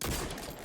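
Destiny 2 exotic slug shotgun blast in a video game, one short punchy boom with dense low body and a bright crack, loud and close with no voices.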